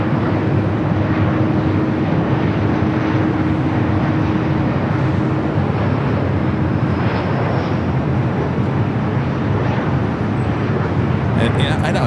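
A steady, loud roar from aircraft at Los Angeles LAX airport, including a Delta 767-300ER lined up for takeoff, fills the air continuously with broad engine rumble and a faint hum, with talk heard over it.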